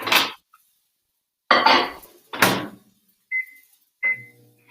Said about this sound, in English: so what I'll do with this is I'll put it in the microwave